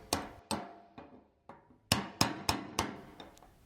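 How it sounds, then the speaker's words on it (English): A hammer driving a brass drift to tighten a fuel tank retainer ring on a 1971-1986 Jeep CJ: about ten sharp, close metallic strikes in an uneven rhythm, each ringing briefly before the next. "install the new retainer ring and tighten it with a brass drift and hammer until it's fully seated"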